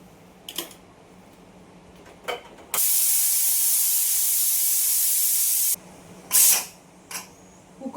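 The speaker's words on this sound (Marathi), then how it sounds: "कुकरच्या तीन शिट्या झाल्या कुकरची हवा निघाली आहे" A kitchen pressure cooker that has just finished three whistles after boiling four potatoes lets out its steam in one loud, steady hiss lasting about three seconds, with fainter clatter before and after and no talk.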